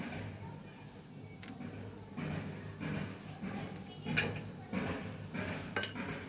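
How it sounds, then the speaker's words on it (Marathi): Cucumber pickle being mixed with oil and spices in a bowl, quiet clinks and scrapes of a spoon against the dish at an uneven pace, fairly faint and close. "आणि ह्याच्यात टाका हे ऑइल थोडंसं जास्त लागतं याला, मी पहिले मिक्स करून घेते।"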